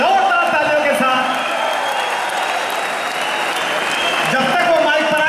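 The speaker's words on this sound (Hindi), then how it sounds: "जोरदार तालियों के साथ स्वागत।" A large audience applauds steadily and loudly at a poetry recital in Malwa, welcoming a poet to the stage, with voices mixed into the dense clapping.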